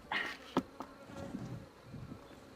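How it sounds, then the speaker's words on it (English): Honeybees from a swarm buzz around nearby on a homestead, individual insects zipping past the mic in loud bursts amid a fainter, steady hum of others. "bees may be coming back to this spot"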